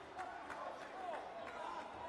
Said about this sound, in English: Let's just listen into the crowd.